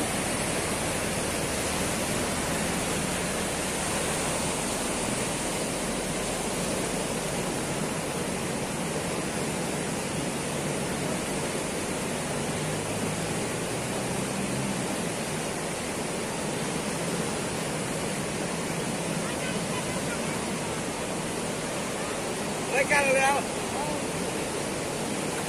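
Kringi river in flood on a morning, its rushing brown water a loud, steady broadband roar that runs unbroken throughout, with a brief sharper noise near the end.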